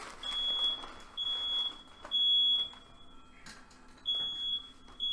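A high, thin smoke alarm beep repeats in short bursts at a steady interval, fairly faint against a quiet room with some background clatter.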